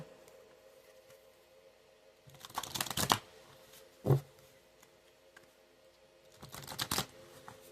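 Angel cards being shuffled by hand, three separate bursts of papery riffling and flicking, with a short sharp snap between the first two bursts, fairly close in an otherwise quiet room.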